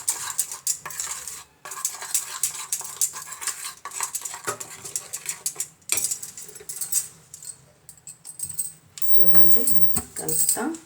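A spoon stirs cream mixed with milk in a bowl, making quick, repeated scraping and clinking strokes against the sides, with someone talking over part of it.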